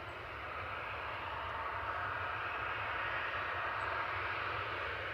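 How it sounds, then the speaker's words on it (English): An EasyJet Airbus A320 arriving at Manchester Airport from Lisbon, a steady distant jet engine roar holding evenly throughout with no voices. "Next arrival will be EasyJet from Lisbon, A320 OEIDX"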